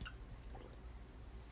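Water pours into a glass for a drink, a faint, brief, continuous splashing trickle heard close up with no talking.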